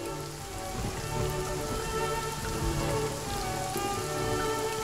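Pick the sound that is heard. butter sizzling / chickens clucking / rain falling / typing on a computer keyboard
rain falling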